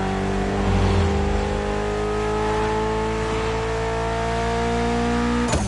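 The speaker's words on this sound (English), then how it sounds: "Mitsubishi gave us a nice inline 4-cylinder with already 280 horsepower." A Mitsubishi inline four-cylinder car engine rated at 280 horsepower revs in a racing video game, a loud steady drone with strong harmonics that holds for several seconds and is heard alone.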